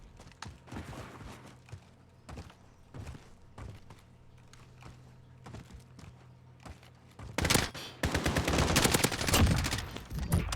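Gunfire in Call of Duty Warzone: scattered single shots and short bursts for about seven seconds, then a loud, dense stretch of rapid automatic fire up close.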